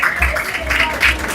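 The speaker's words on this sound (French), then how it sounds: "On les applaudit," Brief crowd applause, a muffled wash of clapping with some voices mixed in, fairly loud and continuous over a short span.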